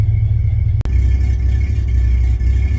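A 1966 Chevy C10 pickup with new exhaust idles with a steady, loud low rumble while backing out, broken by one brief dropout, the engine note holding even throughout.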